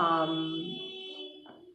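A tortilla vendor's short electronic beeping horn sounds nearby, a steady buzzy tone that fades over under two seconds.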